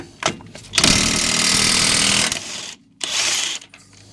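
An impact gun whizzing off a 36mm hub nut on a Peugeot 208 brake disc, a loud close buzzing burst of about a second and a half, then a shorter second burst after a pause.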